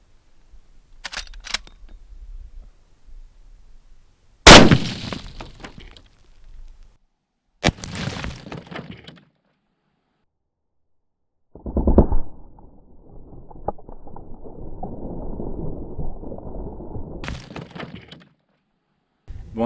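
.45-70 Henry lever-action rifle fired at cinder blocks: a few sharp, loud reports with brief rumbling tails, separated by quiet gaps, plus some clattering handling noise and a longer spell of muffled rustle.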